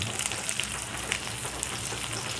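Garlic, onion and a little ginger sauté in a hot pan for a Filipino home dish, a steady close sizzle with fine crackling pops throughout and no talking.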